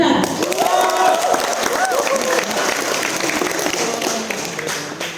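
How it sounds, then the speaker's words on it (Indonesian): An audience at an accounting competition claps for the competing teams in a loud, sustained burst of applause that stays dense and gradually thins out, with voices heard through the clapping. "Beri tepuk tangan yang meriah kepada tiap-tiap tim yang ada"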